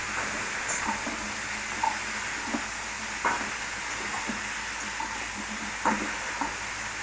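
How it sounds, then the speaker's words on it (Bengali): Cauliflower pieces fry in a pan with a steady close sizzle and hiss, punctuated by occasional stirring clinks and scrapes against the metal. "এবার কপিগুলো ভাজা বসিয়ে দেবো।"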